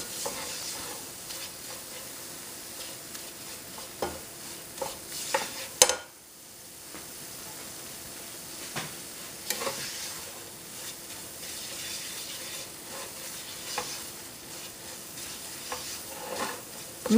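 A corn pie mixture browning in a pan while being stirred, soft continuous sizzling with scraping spoon strokes at irregular intervals and one sharp knock midway, no talk.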